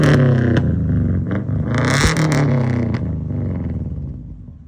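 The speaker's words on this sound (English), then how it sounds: "I'll go ahead and put a clip of what the car sounded like." A JZX100 car with a welded aftermarket exhaust gives a loud, raspy note, revving up sharply a couple of times, then settles and fades as the revs fall.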